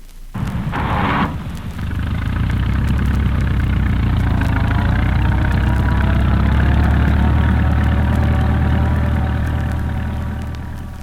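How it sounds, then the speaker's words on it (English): A bulldozer engine pushes through snow beside a six-inch hand-shoveled path near a library. A short burst at the start gives way to a loud, steady, close diesel drone with an even rumble throughout. "by a bulldozer"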